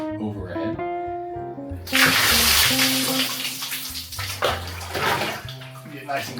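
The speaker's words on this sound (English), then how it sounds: "They basically just have 2 barrels of water, which then of course we just pour over our head." Barrel water is poured over a person's head in a simple outdoor hut shower, a sudden heavy splashing gush after some background music, continuing in uneven surges.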